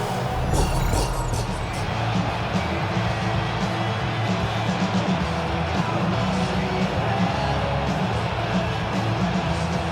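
A stadium crowd roars continuously at an EA Sports football game before a Cowboys at Eagles matchup, a loud steady wash of cheering with a few sharper whoops early on and commentary voices mixed underneath.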